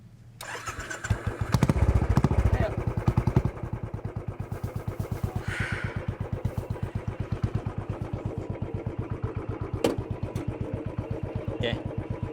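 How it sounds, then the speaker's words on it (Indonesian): A motorcycle engine starts up close with a loud, rough burst, then settles into a steady, throbbing idle rumble that continues throughout. No one speaks over it. "Ini harus banget ya naik motor."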